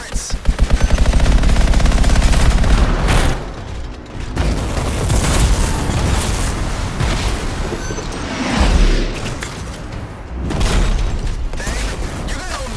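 Turrets fire rapid bursts of automatic gunfire in the video game Anthem, loud and close. The rattling volleys are mixed with booms and mechanical clanks and come in waves across the scene.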